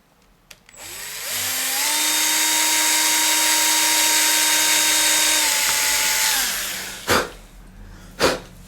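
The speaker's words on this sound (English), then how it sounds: "So I'm just going to drill that hole now" A power drill bores a hole in a Strat-style custom electric guitar body, a loud steady whine that ramps up and holds for about five seconds before winding down, followed by two short bumps.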